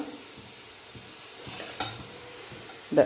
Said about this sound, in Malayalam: അത്രയും തേങ്ങ ചേർത്ത് ഇവിടെ ഇളക്കി